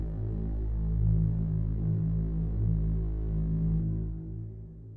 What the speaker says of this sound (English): Here is the tank announcement when the big tank man at level 2 comes out.